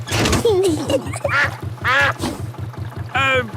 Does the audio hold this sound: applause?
no